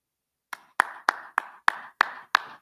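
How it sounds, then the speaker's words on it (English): Seven slow, evenly spaced hand claps from one person, crisp and close in a quiet room, with nothing else heard around them. "Sorry to lead the clapping there."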